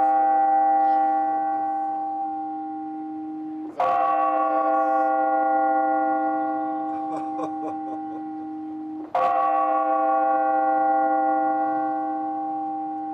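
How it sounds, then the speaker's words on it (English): A deep clock tower bell in Przemyśl, Poland, tolls loudly striking the hour, each stroke ringing out with a long, shimmering decay before the next strike; two clear strikes with no voices. "So the tower, the clock tower, is just striking the hour there"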